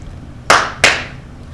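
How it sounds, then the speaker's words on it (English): Two sharp hand claps land close together, each ringing briefly, in an otherwise quiet room. "just clap your hands twice."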